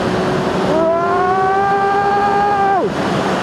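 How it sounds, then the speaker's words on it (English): A Triumph Speed Triple ABS super naked motorcycle revs hard while riding, its exhaust note climbing in a loud, sustained tonal howl before dropping off sharply as the throttle closes, with wind rush underneath. "Oh, this is an exhaust. Oh, fucking that sounds good."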